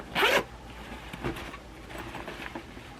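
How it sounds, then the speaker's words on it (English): A double zipper on a leather bag is pulled open in one quick, loud rasp, followed by softer scraping zip sounds and light handling noise, with no talking. "So next there's a double zip."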